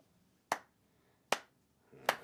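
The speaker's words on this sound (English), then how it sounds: "Slow clap for you." Three slow, sharp single claps spaced evenly about a second apart, crisp and close in a quiet room, with no talk.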